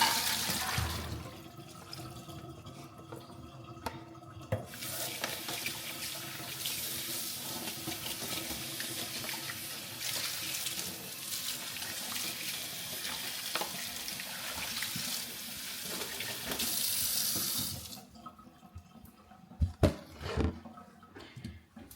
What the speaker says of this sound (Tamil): இவ்வளோத்தையும் கழுவ போகிறேன்.